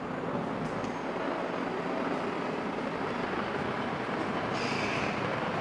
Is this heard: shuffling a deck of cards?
no